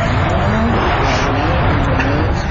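A Carrera slot car Audi climbs a volcano-shaped hill on a toy track, with a continuous close whirring motor whine and rolling rumble under loud, excited shouting.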